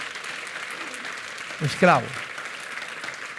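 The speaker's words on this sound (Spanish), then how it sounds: "Dale un aplauso al Señor por ser esclavo de Jesucristo." A church congregation applauds during a sermon, steady dense clapping running throughout as a preacher briefly speaks over it.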